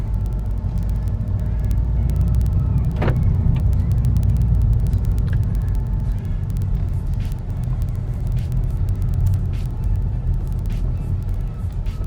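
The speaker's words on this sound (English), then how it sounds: "And then put her around in first gear to get a feel of how it is." A manual car putters slowly in first gear around an empty cul-de-sac, giving a steady low engine rumble that runs unbroken throughout, with one brief sharper squeak partway through.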